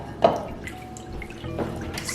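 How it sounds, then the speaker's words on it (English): Garlic pork marinade poured into a dish, giving a wet splash and soft liquid trickling and dripping, close and moderately loud, with no talk. "I'm going to pour it into this dish."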